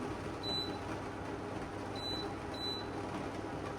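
A kitchen timer gives three short, faint, high beeps, one and then a close pair, over a steady loud hiss of steam while kutsinta cooks.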